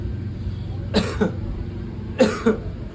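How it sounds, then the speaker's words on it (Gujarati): Two separate coughing bursts from a person with a cold, each a quick double cough, heard close against a low background rumble with no talk. "શરદીનું ઉધરસ થઈ ગયું."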